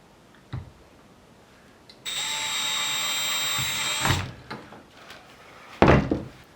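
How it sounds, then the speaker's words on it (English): A 1/8 inch bit drills into a Jackson Bite Angler kayak hull, a steady high whining burst of about two seconds, close and loud, framed by a few knocks and clunks before and after. "with a 1/8 inch drill bit, I'm going to drill this"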